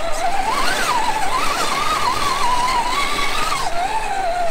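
An RGT CJ EX86010 Jeep RC crawler drives with its wheels spinning up, a continuous whining motor tone rising and falling with throttle, steady and close throughout.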